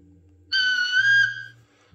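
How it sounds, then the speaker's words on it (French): A bright, steady model train whistle sounds for about a second, fairly loud and close, over a low mechanical hum from a Trix Edelweiss train set. "Voilà, je mets le son. Le sifflet."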